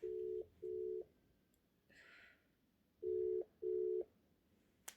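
A telephone call goes unanswered, sounding four short ringback tones in two pairs separated by a pause. The tones are faint and steady, with a brief rustle between the pairs.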